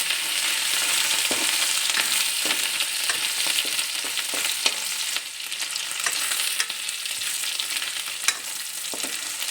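Garlic and ginger paste fries in a pan for a Punjabi okra-style recipe, a loud steady sizzle broken by frequent spatula scrapes and taps, with no voices.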